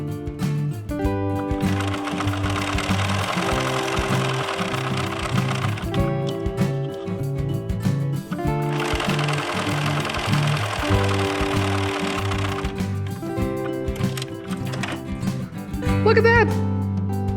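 Sewing machine running a straight stitch along fabric bunting, with two long steady mechanical stitching runs separated by pauses, while music plays and someone talks throughout.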